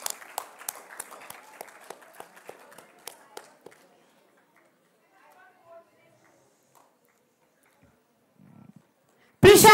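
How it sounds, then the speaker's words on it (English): Audience applause at a school award assembly: scattered, moderately loud clapping that thins out and fades to near silence, followed by a sudden loud burst at the very end. "Let's clap for her."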